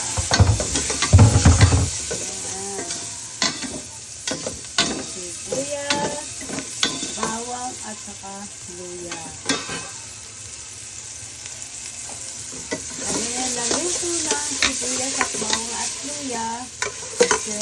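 Garlic and onion sauté in a pan for mussel soup with chili leaves, making a loud, continuous sizzle with stirring clatter and a sharp burst near the start, while a voice runs faintly underneath.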